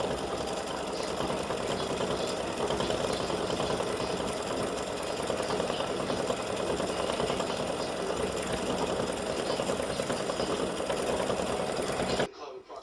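An embroidery machine runs steadily for about twelve seconds, satin stitching around a horseshoe design for a St Patrick's Day earring and pendant piece, its rapid needle chatter continuous and close before cutting off abruptly.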